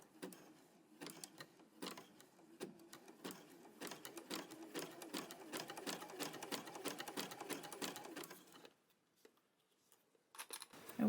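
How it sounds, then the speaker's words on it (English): Sewing machine stitching through fabric-wrapped rope to form a loop, a steady fast rattling hum with small starts and stops, then a pause and a brief restart near the end. "I'm going to go ahead and stitch right here first"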